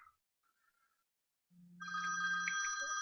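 A phone rings nearby, starting with a short low tone and then breaking into a bright, continuous electronic trill that holds loud and steady to the end, with no talking.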